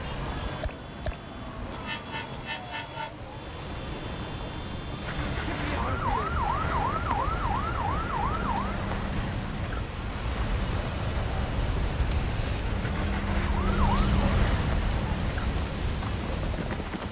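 Ambulance siren in the Fire Commander game, set during a chemical lab fire at a high school, wailing in two bursts over a steady rain-like hiss, mid-distance and moderate.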